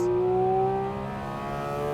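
Porsche 718 Cayman GT4 RS engine at full throttle, revving toward its 9,000 rpm red line: a loud, sustained high-pitched wail whose tone climbs steadily, heard alone without talk.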